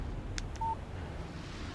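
A short electronic phone alert tone in the video game Alan Wake, a faint brief beep set against low ambient background rumble.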